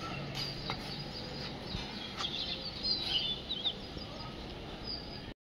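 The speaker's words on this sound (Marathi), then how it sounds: "पक्ष्यांचा आवाज येतोय।" Morning birds chirp and call outdoors near a home, scattered bright tweets over a quiet ambient bed, with some fowl-like calls mixed in and no speech.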